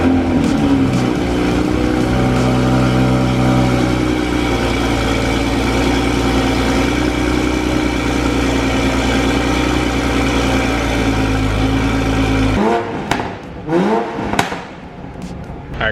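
A Toyota A90 Supra with a B58 engine runs with a catted AutoWerke downpipe fitted, a loud steady idle drone close by for about twelve seconds before it cuts off, leaving brief rustling.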